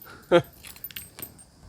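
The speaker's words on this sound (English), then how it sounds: "Sat on my keys." A set of keys jangles once, briefly and close, as they are sat on, followed by faint rustling and handling sounds in a quiet space.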